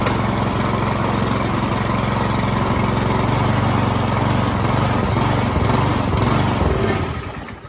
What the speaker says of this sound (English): We're going to try to fire this up again.